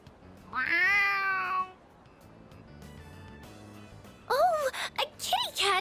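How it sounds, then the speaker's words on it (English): A cat meows in Persona 3 Reload, two drawn-out plaintive cries near and clear with a short quiet gap between, with people talking around them. "Oh, a kitty cat! Aw, he's so cute!"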